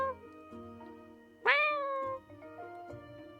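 A voice imitates a cat's meow, one loud rising-then-falling mew that stands out sharply over steady game music and quieter background sounds.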